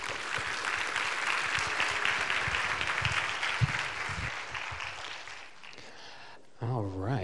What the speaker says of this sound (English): So I want you to give a warm applause to Professor Patrick.